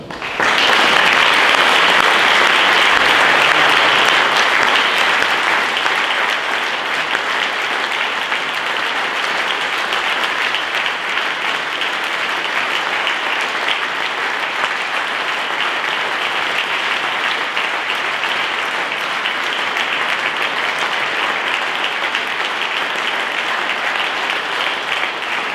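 A concert audience applauds the soloist after a brass band performance, a dense, steady wash of clapping that swells at the start and holds loud and continuous for the whole stretch, with no talk over it.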